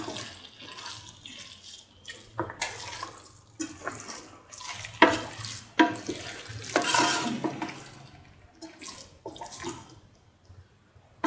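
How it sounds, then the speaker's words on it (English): Garlic potato rice is stirred in a pan over the flame. The scraping, swishing strokes come in irregular bursts with a faint sizzle, close and fairly loud. "Mix the rice into a mixture thoroughly."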